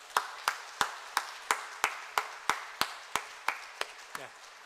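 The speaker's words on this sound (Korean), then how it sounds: "우리 선생님들에게 또 교육자들에게 박수 보내겠습니다" A church congregation applauds its teachers and educators: crisp, evenly spaced claps at a steady moderate pace, fairly quiet and close, with the beat trailing off near the end.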